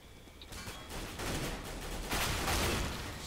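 Gunfire in the video game CS:GO, a dense, continuous burst of shots lasting a few seconds, moderately loud with no voices.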